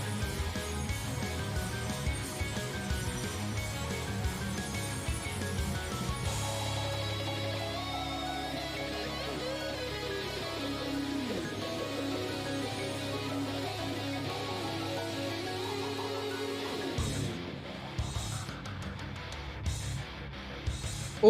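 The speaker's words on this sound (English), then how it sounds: "There is some serious guitar playing within this tune" Heavy, distorted electric guitar drives a Donkey Kong Country: Tropical Freeze boss theme. The sustained lines play at a fairly low level and continue for about twenty seconds, with a brief break in texture near the end.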